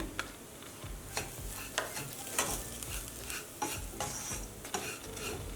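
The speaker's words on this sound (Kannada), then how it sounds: "ಮೀಡಿಯಮ್ ಫ್ಲೇಮ್ ಇಟ್ಕೊಂಡೆ ಹುರ್ಕೊಂಬಿಡೋಣ" Semolina (rava) being stirred and roasted in a pan over medium flame, a soft dry sizzle under repeated scraping and tapping of a spoon against the pan at an irregular rhythm, quiet and close.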